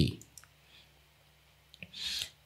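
A computer mouse clicking during Photoshop editing: a few sharp, quiet clicks spread over a couple of seconds against a low background hum.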